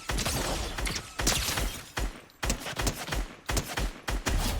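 Gold SCAR assault rifle fire in a video game, loud, close bursts of rapid shots in several clusters separated by brief pauses, with sharp impact and mechanical clatter.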